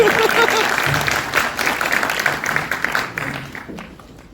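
An audience at a poetry recital in Gonda claps in a steady, dense burst that slowly fades over about four seconds, with some voices mixed in.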